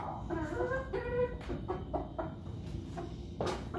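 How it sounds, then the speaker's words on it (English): Backyard chickens clucking contentedly while eating treats, a run of close, overlapping low clucks and short chatty calls with faint knocks in the background. "So a bunch of happy noises from the chickens right now as they enjoy their treats."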